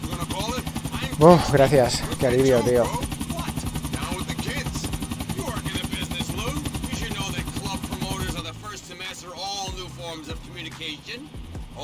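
A helicopter in Grand Theft Auto IV: The Ballad of Gay Tony drones steadily with a loud rotor hum under a man's speech and game dialogue, then fades down as the scene changes near the end.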